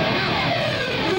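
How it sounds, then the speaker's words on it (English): Cleanly executed electric guitar pick slide, a steady, dense scraping whoosh of distorted strings that holds for the whole moment without breaks. "You have to do a pick slide correctly and it comes out like this."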